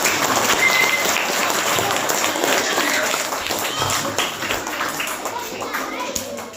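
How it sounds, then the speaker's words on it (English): Audience clapping at a school week and Christmas celebration, dense and sustained applause from many hands, with children's voices mixed in beneath the clapping. "So clap your hands for him."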